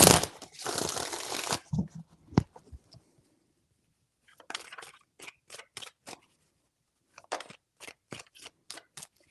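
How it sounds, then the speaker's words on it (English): Tarot cards get a long riffling shuffle up close, followed by a few scattered taps and then two runs of quick, crisp card snaps, with no talking. "Three shuffles."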